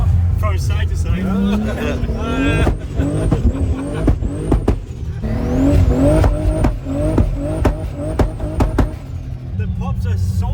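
A 1300-horsepower Nissan Patrol revs hard on a ski slope, its engine climbing and dropping through repeated surges with sharp exhaust pops, loud and close, while people talk over it.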